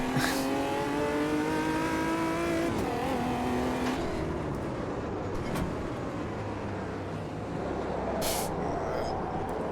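Omega stock car engines from 1999 roar together at a race start in the sim racing game Automobilista 2, loud rising revs climbing through gears, a dense continuous pack of cars with no voices over it.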